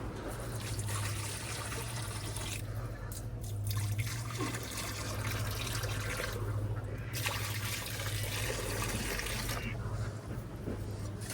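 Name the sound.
water poured from a jug for rabbits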